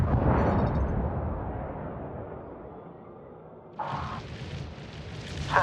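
A spaceship blows up in the HomeWorld 3 space strategy game, a deep rumbling boom that rolls and fades over several seconds before sharper bursts of battle noise cut in near the end.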